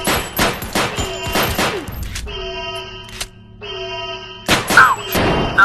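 Rapid bursts of gunfire from the shooting game Crisis Brigade 2, loud and close, with a calmer musical stretch in the middle before the shots resume.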